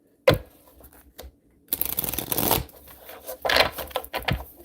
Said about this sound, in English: we shuffle these one more